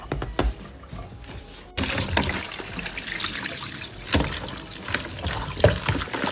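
Potato pieces for a shepherd's pie tumble into a pot of boiling water, with a few sharp splashes and clunks giving way to a steady, close, loud hiss of rolling bubbles and splashing, with no talking.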